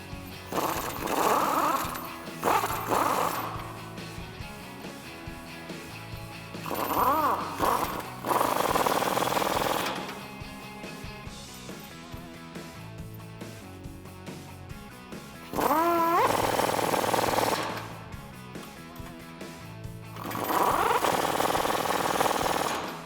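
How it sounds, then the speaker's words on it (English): Bursts of a power tool driving lug nuts with a 22mm socket on a 2005-2021 Toyota Tacoma 4WD during a lift kit install, four loud buzzing runs separated by quieter pauses. "We can take a 22mm socket and tighten these up in a star pattern or a crisscross pattern"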